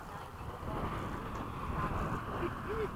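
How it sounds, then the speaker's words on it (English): Steady wind rushes across an airfield after sunset, a broad continuous roar with buffeting low rumble on the microphone throughout, loud and unbroken with no clear speech. "The wind picked back up."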